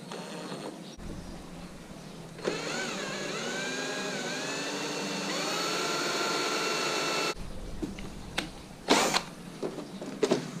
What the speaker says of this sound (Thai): เจาะผิดก็เจาะใหม่ไม่มีอะไรมาก